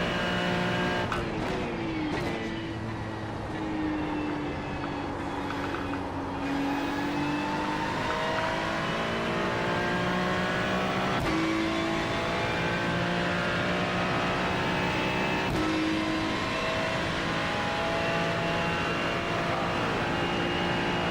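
Racing cars sweep around the Parabolica curve, a continuous layered engine roar with shifting pitch as several cars pass, steady and loud throughout with no talk.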